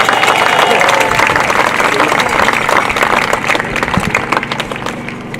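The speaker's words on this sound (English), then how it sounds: "Applause for our 3 seniors." Crowd applause at a girls' high school soccer game honoring three senior players, sustained loud clapping that carries on throughout, with some cheering and a faint low engine-like hum beneath.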